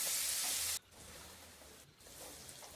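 Raw prawns tossed with salt and turmeric in a hot pan: a loud, bright sizzle for under a second, then fading to a softer, steady frying hiss with faint stirring scrapes, no voices.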